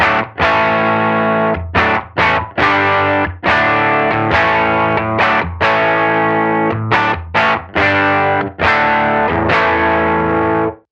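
Electric guitar played through a cranked Benson amp, heavily distorted: loud, close chords ringing out in a series of strums and stops, with no talk.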